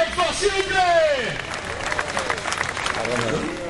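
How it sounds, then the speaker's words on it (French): Crowd applause for minister Benoît Hamon at a campaign gathering, a dense steady wash of clapping under a loud voice speaking over it, with babble from the audience throughout. "je vous donne encore les applaudissements bien fort, s'il vous plaît"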